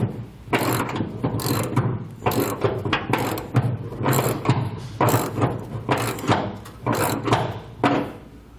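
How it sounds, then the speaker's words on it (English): Ratchet wrench clicking in repeated bursts as nuts are tightened on a B and W Turnoverball underbed gooseneck hitch under a 1996 Ford F-250, close and steady with brief pauses between strokes. "We're going to tighten these down until there's a 1/4 thread sticking out the bottom."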